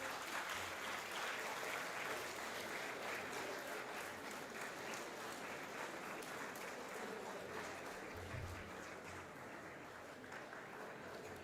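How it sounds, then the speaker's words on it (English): An audience at a national congress on higher education claps steadily for about eleven seconds, a dense, even wash of many hands at moderate distance that fades slightly toward the end. "If you want to clap."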